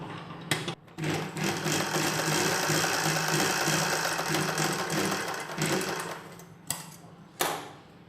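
Sewing machine stitching a nighty crosswise along a folded-in edge, running in a loud steady whir for most of the stretch, with brief stops and restarts near the start and end.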